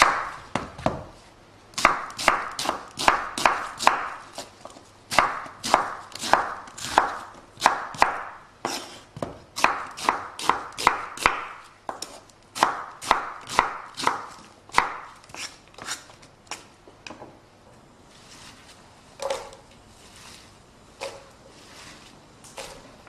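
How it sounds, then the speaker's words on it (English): A knife chops large Spanish onions for a curry in quick, steady bursts of crisp, close blade strikes on a board, pausing briefly between runs, then thinning to a few scattered knocks near the end. "3 large Spanish onions which we're going to chop and add to our pot."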